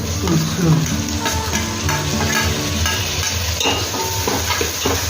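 Chopped tomato frying with browned onion for pav bhaji, a continuous loud sizzle broken by scraping stirring strokes and light clatter against the pan.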